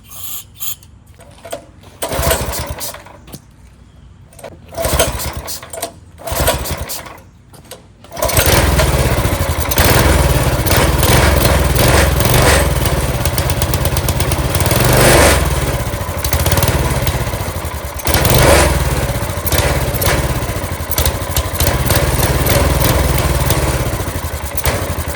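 Small go-kart engine on a yard kart sputtering through a few rough attempts, then catching and running steadily at a loud, buzzing idle with slight rises in speed.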